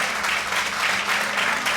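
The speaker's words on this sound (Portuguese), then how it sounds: "Isso, um aplauso ao Senhor." A church congregation applauds during a Pentecostal miracle service, a dense, even wash of clapping from many hands throughout the brief moment, fairly loud and without speech.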